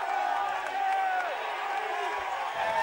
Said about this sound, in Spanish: Y ahí la gente, que aplaude a Carlos.